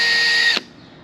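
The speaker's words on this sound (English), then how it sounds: "drill a little pilot hole in the first 2 spots" A power drill bores a small pilot hole into the structure of a barge under construction, a steady high whine lasting about half a second before cutting off abruptly as the bit breaks through, leaving quiet room tone.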